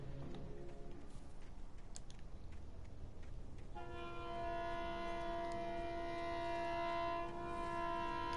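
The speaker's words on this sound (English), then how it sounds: "It's a very loud train." A loud train passes close by, a broad rumbling roar joined midway by a sustained, steady horn-like tone that holds to the end.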